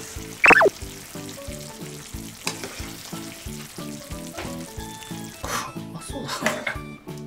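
Thickened minced meat and daikon sauce boils hard over high heat, with rapid, regular bubbling and popping close by and a sharp knock at the start.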